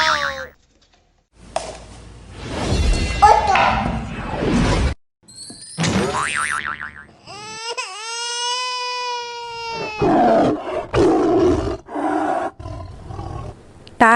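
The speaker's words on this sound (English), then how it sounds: "Tiger." A tiger roars loudly several times in a kids' animal-sounds sequence, the deep rasping calls broken by short gaps and a rising, wailing tone in the middle, with no talking over them.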